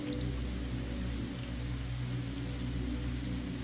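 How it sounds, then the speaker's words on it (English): Soft city rain falls steadily, a dense unbroken patter with a low rumbling undertone that holds at an even level throughout, with no voices. "And the soft city rain continues to fall"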